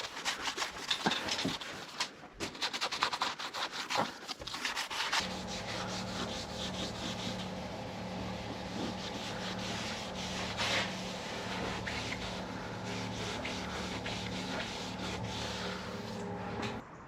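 An 8mm orbital sander working on a Nissan Qashqai's car body panel, close and steady, with a constant whirring grind that settles into a smooth, even tone after a few seconds of rougher scraping at the start.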